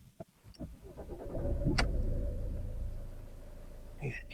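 A Ford Focus with 270,000 kilometres cranks briefly and catches, settling into a steady low idle rumble, with a few clicks beforehand and a light chime near the end.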